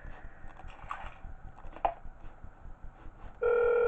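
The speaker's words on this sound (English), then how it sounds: "Do we get a phone call?" A phone in the horror game Five Nights At Wario's starts ringing near the end, a loud steady electronic tone cutting in after a stretch of faint clicks and thumps.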